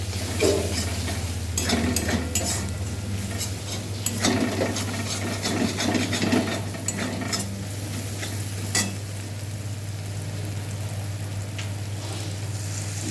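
Spiced masala for palak paneer sautéed in a pan, with steady scraping and stirring strokes over a continuous sizzle and a low background hum, close and fairly loud, with no voices.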